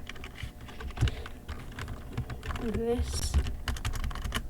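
Keys clatter on a computer keyboard while a Linux user types a command, with irregular close clicks in short runs and a voice speaking briefly over them.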